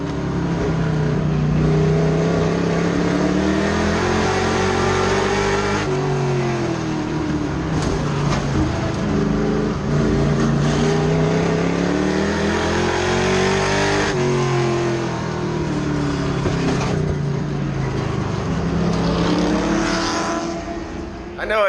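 Pro Truck race cars racing on the Auburndale Speedway oval, engines loud and close, rising and falling in long repeated sweeps as they lap, with voices now and then under the roar.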